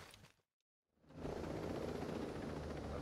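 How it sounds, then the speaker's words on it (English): A helicopter in the video game Ghost Recon Breakpoint cuts out into brief silence, then returns as a loud, steady rotor roar and whoosh that fills the rest of the clip. "Bye bye, Mr. Helicopter."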